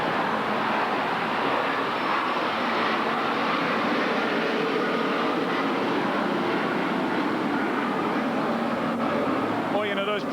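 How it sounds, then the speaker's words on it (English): Airplanes fly low over Shea Stadium during a 1992 Cubs–Mets baseball game, a broad steady roar filling the ballpark with crowd noise beneath it. "those planes really are part of the great attraction about coming to a game at Shea Stadium"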